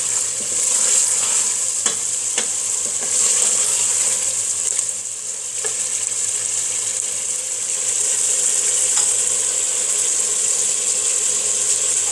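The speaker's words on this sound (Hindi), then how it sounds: "ये बहुत अच्छा भून रहा है" Mutton korma frying in a pot, a steady close sizzle running throughout with occasional soft scrapes and clinks of a stirring spoon, no talking.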